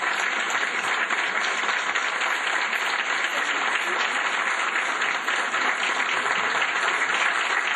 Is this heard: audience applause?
yes